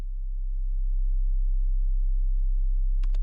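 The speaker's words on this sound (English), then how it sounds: "you need to be able to hear sub-bass frequencies like" A steady, deep sub-bass sine tone hums continuously, with a brief higher chirp near the end.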